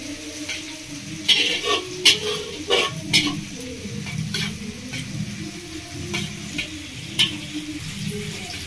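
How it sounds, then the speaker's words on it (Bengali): Sliced onions fry to crisp golden beresta in oil left over from frying fish, a steady crackling sizzle with a few sharp ticks and stirring clinks near the pan, no voices over it. "মাছ ভাজা তেলে বেরেস্তাটা বানালে খুব টেস্ট হবে বেরেস্তাটা।"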